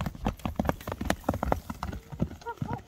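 Farm horse walked at its natural gait, producing a quick run of close hoof clip-clops on hard ground with a short neigh near the end.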